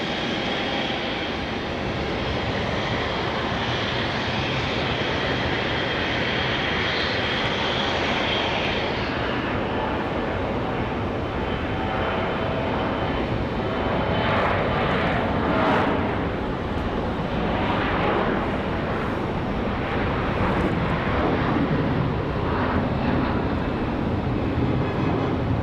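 Aircraft engines roar at Raleigh Durham International Airport on a rainy day, a loud, sustained rumble heard from nearby that shifts in tone partway through as a plane moves past, with no talking.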